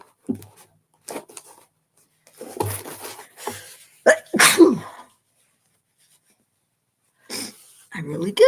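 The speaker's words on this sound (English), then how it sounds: "I really did have to sneeze." One sharp, loud sneeze bursts out amid short breaths and bits of a person talking nearby, followed by a brief quiet pause.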